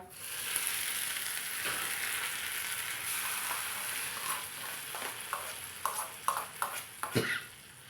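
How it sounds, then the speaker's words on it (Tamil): Curry leaves tempering in hot oil for coconut chutney, a steady loud sizzle that ends in a burst of clinks and scrapes as the tempering is poured out. "கருவேப்பிலை போட்டுக்கிறேங்க அவ்வளோதாங்க நம்ம சட்னியில் தாளித்து எடுத்து கொட்டிக்கலாங்க"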